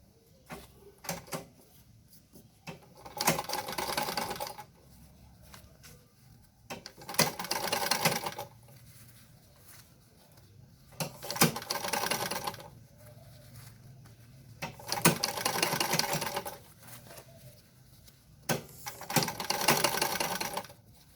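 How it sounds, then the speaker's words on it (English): A sewing machine stitches around fabric that has been scrunched and pushed down, running in five steady bursts of a few seconds each with short pauses in between, close and clear. "now she's sewing around it"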